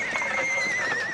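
Horse neighing in a Western setting, a single loud, close whinny with a wavering high tone lasting about a second.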